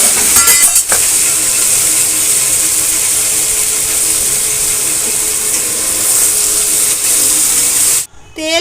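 Chilli-and-salt-coated paneer frying in hot oil, a loud steady sizzle and hiss that fills the whole stretch, with a sharp splutter as the pieces go in and the crackle dropping away near the end.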